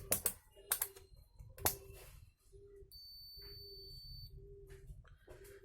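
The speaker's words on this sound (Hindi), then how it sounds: "अब यहाँ पे देखेंगे तो इस पर कोई बीप साउंड नहीं है, और यहाँ पे ये देखिए इस पर बीप साउंड आ रहा है ये पिन पे।" A digital multimeter set to continuity buzzer mode, used while checking pins on a Hikvision DVR board, gives a steady electronic tone that recurs as several short beeps of about half a second, alongside loud clicks and knocks of probes and handling.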